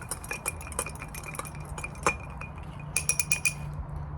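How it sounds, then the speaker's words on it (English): Light glassy clinks and taps of a spoon stirring a bourbon Old Fashioned in a glass, irregular and close, with a quick flurry of chimes near the end. "Give that another little fast stir."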